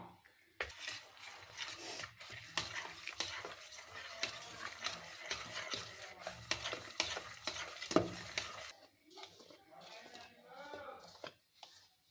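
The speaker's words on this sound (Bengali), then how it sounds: "আর মিক্সিতে বেটে রাখা লাউ একসঙ্গে মিশিয়ে নেব দেখুন বন্ধুরা অল্প অল্প করে মেশাতে হবে" Rice flour and ground bottle gourd are stirred together into a pitha batter, giving close, wet scraping and slapping strokes in a fairly steady rhythm, then a brief gap and softer mixing toward the end; no talk.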